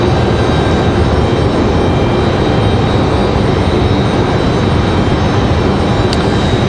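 A Republic Airways jet flying as Delta roars at Raleigh-Durham airport, a loud, continuous broadband rumble with no break and no voices.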